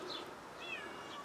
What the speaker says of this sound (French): Il a toujours faim ce chat de toute façon.